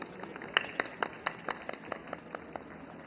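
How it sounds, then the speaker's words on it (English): Sparse, faint clapping from a ceremony audience welcoming a government minister to the podium at the opening of the 56th International Film Festival of India in Goa, with scattered individual claps rather than full applause. "let's welcome him with a round of applause"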